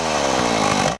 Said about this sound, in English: just go with the chainsaw